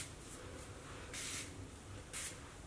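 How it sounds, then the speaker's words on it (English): Two short bursts of aerosol soft wave hair spray hiss onto the top of short bleached hair, close and bright, separated by a pause, over a faint low background hum. "spray the top of my hair."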